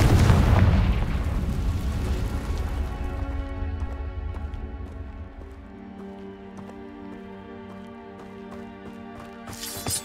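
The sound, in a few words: Confringo blasting spell explosion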